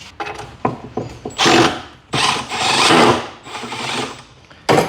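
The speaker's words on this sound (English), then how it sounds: "Then you grab your screw gun, you grab your 1 inch screw, you put that in there" A screw gun drives a 1 inch screw into a narrow drawer cabinet in a few loud whirring bursts, with short clicks and taps of handling between them.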